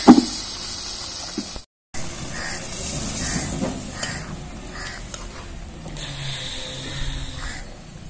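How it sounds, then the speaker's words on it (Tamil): Pressure-cooked dal is stirred into a moringa leaf kootu in a pan, giving scraping, stirring sounds over a soft cooking hiss with a few clinks. "இப்போ கொஞ்சமாக லைட்டாக 1/2 டம்ளர் தண்ணி சேர்த்து இப்போ நல்லா கிளறிக்கலாம்."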